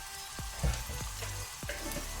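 Salted onions fry in a pan over a medium-high flame, giving a close, steady sizzle with a few soft stirring taps during the brief stretch.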